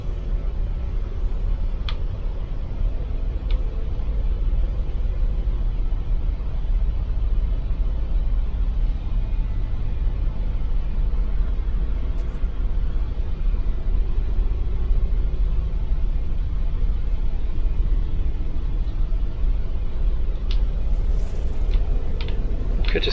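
Storm on an alien planet in the video game No Man's Sky, a steady loud roaring, rumbling wind noise that holds unchanged throughout with a few faint clicks, and no talk.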